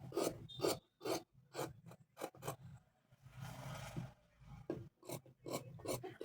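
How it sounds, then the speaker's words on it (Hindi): Scissors snip away extra fabric in a blouse being cut and stitched, giving a run of short, close rasping cuts in bursts with brief gaps between them. "जो एक्स्ट्रा कपड़े हैं ना बीच के, वो हमें कट कर लेने हैं"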